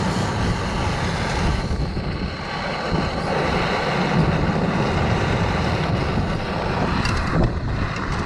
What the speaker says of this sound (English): Look at the flappiness on that tent,